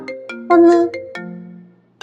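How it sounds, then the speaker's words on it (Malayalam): A phone ringtone plays a bright, melodic run of electronic tones, loud and close, then a pause before the tune starts again. "അമ്മൂമ്മയുടെ ഫോൺ ഇപ്പൊ റിങ് അടിക്കും."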